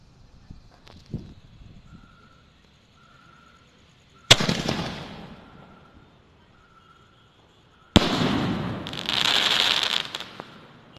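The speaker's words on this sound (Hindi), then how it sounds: "पिंक वाला बड़ा स्काई शॉट, इसको जला के देखते हैं ये कैसा चलता है।" A big pink sky shot firework is lit with a sharp crack, then fires loudly, with a hissing launch and a bright burst and crackle, heard close in an outdoor setting.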